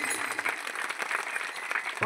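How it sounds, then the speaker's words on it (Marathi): An audience at a Mahashivpuran religious gathering in Jalgaon Jamod keeps up brisk, continuous clapping, many hands blending into a steady patter, with a voice talking or chanting on top. "टाळी"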